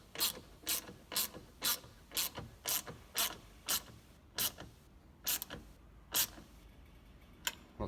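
Ratchet clicking in short bursts while snugging nuts on an extendable towing mirror mount for a Toyota Prado 150 Series, about a dozen crisp close strokes in a steady rhythm, slowing and spacing out toward the end.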